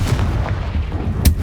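Confringo spell blast in the Hogwarts Legacy video game, a deep booming burst with a rumbling tail and a second heavy thump about a second later, loud and close.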